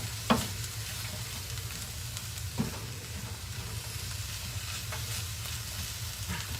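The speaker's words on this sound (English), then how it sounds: "Now we're just going to cook these through for a couple minutes." Brussels sprouts sizzle steadily in a hot pan, with a few sharp scrapes and clacks of stirring every couple of seconds; no voices.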